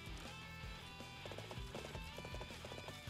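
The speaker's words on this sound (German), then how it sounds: "Wir können jetzt mal mit dem Pferd reiten." Galloping horse hooves in the Dynasty Warriors 7 video game, a steady rapid clip-clop rhythm running throughout, close and fairly loud over a busy game soundscape with a brief whinny.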